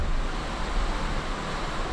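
Super Typhoon Uwan's fierce wind roars in a constant, loud, broadband rush that buffets the microphone without pause, with no voices over the storm.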